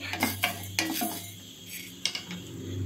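Spoonful of urad dal dropped into a heated small kadai, a few sharp clinks and rattles of grains and spoon against metal, close and fairly quiet, with a faint low hum underneath.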